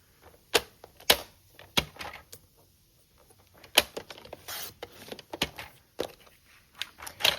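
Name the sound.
cutting paper for a card background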